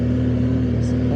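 A car ahead labours up a steep hill on the Puncak route, its engine a steady low drone heard from inside a vehicle.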